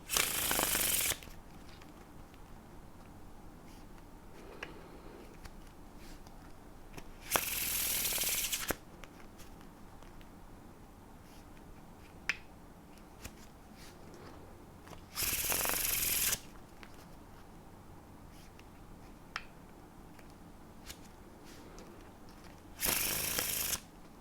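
Four brief bursts of crisp card riffling from faro shuffling a deck, each about a second long, spaced evenly with quiet gaps and faint handling clicks between.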